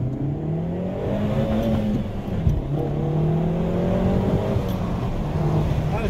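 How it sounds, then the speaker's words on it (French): A Peugeot 308 GTI in sport mode accelerates with a window open, its engine droning steadily and climbing in pitch over road and wind noise inside the cabin. "Est-ce qu'on n'ouvrirait pas la fenêtre pour faire une petite accélère?"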